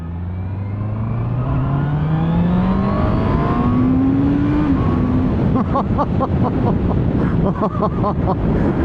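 A 2025 Honda CBR650R motorcycle accelerates hard, its engine pitch climbing steadily, then stepping through gear changes into a buzzing, pulsing rasp. It is loud and continuous, with wind rushing past the microphone.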